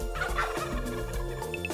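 A cartoon turkey gobbles in a burst of rapid warbling calls over a busy animated soundtrack with music, a loud, close fowl gobble with no speech.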